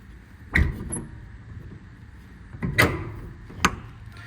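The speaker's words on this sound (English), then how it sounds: "All the doors close, lock, close, lock, and latch as they should." Service body compartment doors on a 2022 Ford F550 with an IMT Dominator bed are shut and latched, giving three sharp metallic slams with clicks, spaced irregularly and close by, with no talking over them.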